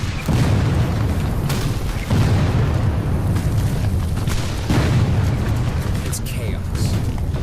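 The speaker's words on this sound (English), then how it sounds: "Bullets and shells fly in all directions." Civil War battle effects at Gettysburg, with booming shell bursts and crackling gunfire filling the scene as Union defenses on a hill are attacked. Someone speaks over the continuous loud rumble of explosions and shots.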